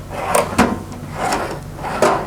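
Toolbox drawers slide open and shut in a few close, distinct bursts, each a metallic rolling rub ending in a soft knock, with brief pauses between them.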